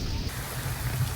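Steady rain falls outdoors while children play in it, a continuous soft patter with a low rumbling undertone, close and even throughout, with no voices.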